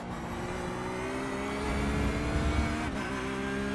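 A Porsche 911 GT3R race car engine at Road America in iRacing drones steadily at close range, its pitch sliding slightly as the car comes off the brakes into a corner, with a brief swell in loudness midway.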